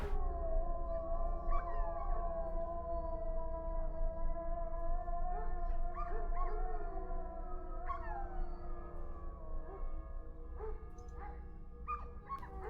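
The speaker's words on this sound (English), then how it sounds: "It's a really big wolf." A large wolf in a video game howls in long, wavering, overlapping tones that rise and fall, sustained loudly across the whole stretch over a low rumbling background, with no talk.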